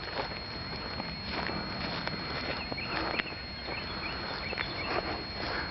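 Footsteps crunch steadily outdoors as someone walks past two pet turkeys in a backyard, an even near tread with light scuffs and a faint bird call or two behind it.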